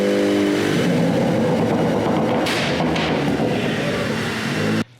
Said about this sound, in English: crackling, for those of you that don't know, is when you get on the gas, get off the gas